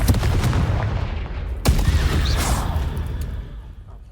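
The Confringo fire spell in Hogwarts Legacy bursts into a heavy, booming explosion with a sharp crack midway, followed by rumbling blasts that fade away. No one speaks.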